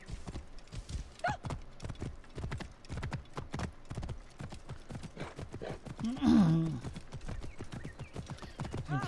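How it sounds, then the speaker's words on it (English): A war horse in Assassin's Creed Origins clip-clops at a brisk, even walk through a city, hooves close and regular, with a brief whinny midway. "The war horse look like a normal horse."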